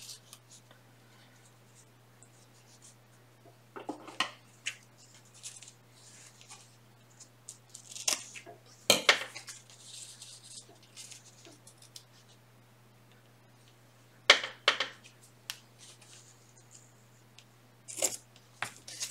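Scissors snipping paper while a collage portrait is assembled: sparse, close, crisp cuts and rustles come in small clusters separated by quiet stretches, over a steady low hum.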